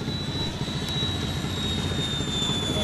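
A radio-controlled F-16 model jet, an F-16D with landing gear, makes a pass before landing, heard as a steady, loud turbine whine with a high tone that drifts slightly across the clip.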